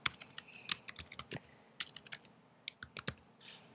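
Rapid keystrokes on a computer keyboard while a short description is typed, irregular clicks and taps up close with brief pauses, no voices.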